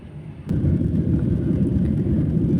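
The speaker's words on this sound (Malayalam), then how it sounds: "ഫ്ലൈറ്റിന് സ്പീഡ് കൂടിയിട്ടുണ്ട് കുറച്ച് പൊക്കത്തിലേക്ക് പോവുകയാണ്" From inside the cabin on a flight to Port Blair, the airliner's engines rise to a loud, steady, deep roar as the plane gathers speed and climbs, after a quieter start.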